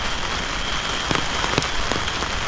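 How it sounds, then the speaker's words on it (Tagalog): Heavy rain pours down in a dense, steady hiss, with occasional louder drops spattering on a nearby surface and no voices. "lakas ng ulan"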